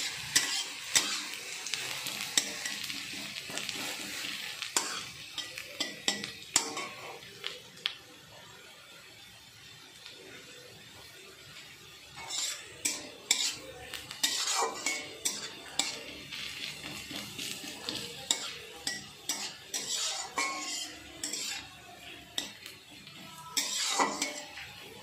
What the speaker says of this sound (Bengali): পেঁয়াজটা মোটামুটি ভাজা ভাজা হয়ে গেছে।